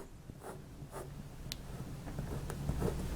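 A Jinhao 991 fountain pen with a hooded nib moving across paper, soft scratchy strokes in short bursts, close and quiet against a low background hum.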